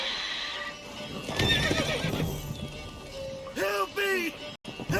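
Roach, the horse in The Witcher 3 video game, gives two loud close whinnies near the end after a stretch of clip-clopping hoofbeats, with game speech and ambient sound around them.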